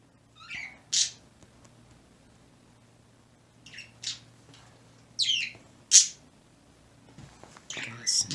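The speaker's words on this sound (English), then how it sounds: "Now the birds are loud." Birds call outdoors in short, sharp chirps and squawks, scattered in bursts with gaps between them over a low steady hum.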